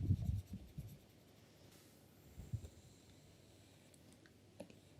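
Hand drawing a diagram on a surface, with soft scratchy pen strokes in short bursts, louder at the start and again midway, fairly close and quiet with no speech.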